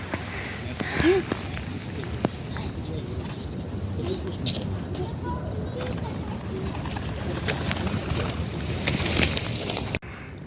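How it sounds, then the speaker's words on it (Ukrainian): Pigeons coo softly outdoors near a dormitory amid steady ambient noise and occasional voices nearby. "Ого, привіт, голуби! Які вони класні!"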